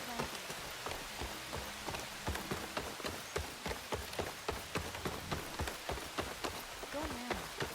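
Steady rain pours in Horizon Forbidden West, a dense close hiss with scattered sharp droplet ticks throughout. Faint low tones sit underneath.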